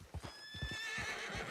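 A horse in the Western video game Red Dead Online whinnies with a clear, high, wavering call over a quick run of clip-clopping hoofbeats, all close and fairly quiet.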